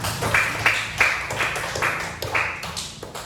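Classroom of children clapping together for a short moment in rhythmic bursts, a patterned tepuk tangan clap routine with sharp repeated slaps, fairly close and clear.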